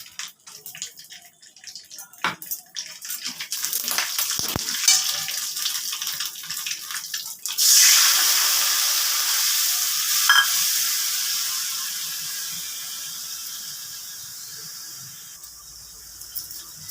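Spice paste of salt, turmeric, Kashmiri red chili powder and hot chili powder fries in oil for a fish curry, a steady close sizzle that swells loudly midway, broken by occasional stirring scrapes.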